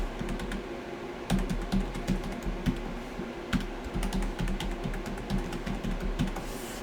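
A password is typed on a computer keyboard, a run of close, quick clicking keystrokes in irregular bursts over a low steady hum, with no talk.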